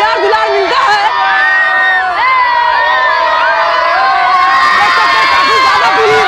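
A large, dense crowd of thousands mills around at a Ravana effigy burning festival at a Shiva temple courtyard in Jafarpur market, a loud continuous roar of shouts, whistles and chatter packed close on all sides.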